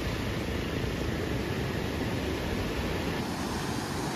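Rough sea waves at Bapatla beach roar in a steady, dense wash of surf and wind with no break, loud and continuous throughout.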